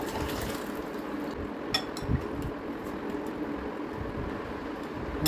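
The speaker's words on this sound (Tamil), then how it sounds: "சூப்பு எடுத்து பாத்திரத்தில் மாற்றி" Mutton soup poured from one cooking vessel into another, a steady close liquid pour and splash with occasional clinks of metal and glass, no talking.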